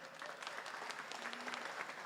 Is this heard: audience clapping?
yes